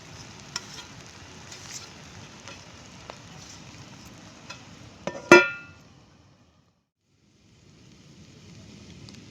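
Egg bhurji with masala cooks in a pan, giving a faint, soft sizzle with a few light ticks. A sharp metallic clank follows as the lid goes on, then the sound falls almost silent before a low hiss returns.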